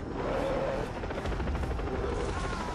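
Helicopter in the video game Far Cry 3 during a jungle chase, a steady loud broadband rotor roar filling the whole stretch with some gunfire-like texture mixed in.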